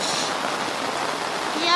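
Heavy rain pours down steadily in a Kenyan village, a dense close hiss of water falling on surfaces throughout the short stretch.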